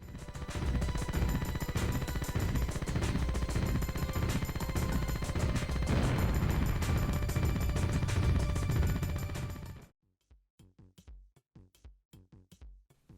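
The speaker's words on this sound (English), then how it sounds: "The act of blasting aliens is also satisfying thanks to potent explosions and rapid fire combat" Explosions and rapid gunfire from the Dreamcast alien-shooting game Incoming, a dense, loud, continuous barrage of blasts and shots for about ten seconds, then breaking into sparse, sharp separate bursts.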